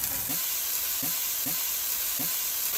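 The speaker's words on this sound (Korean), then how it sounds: "버섯에 비해 익는 시간이 길기 때문에 아스파라거스 먼저 볶습니다." Steady hissing sizzle of asparagus and mushrooms stir-frying in oil, with soft periodic scraping taps as they are stirred.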